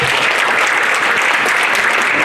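A crowd at a 70th birthday party claps loudly and continuously, a dense steady burst of applause with no pause.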